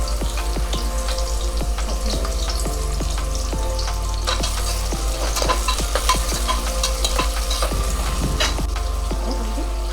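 Chopped onion and green chilli pieces frying in a pan for a village-style country chicken curry, a loud continuous close sizzle with dense crackling pops and steady low hum, no talking.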